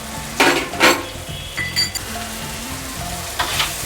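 Onion, chilli, tomato and capsicum fry with salt, turmeric and ginger in a pan for paneer jhol, giving a steady close sizzle broken by sharp scraping stirs and light clinks of a spoon against the pan.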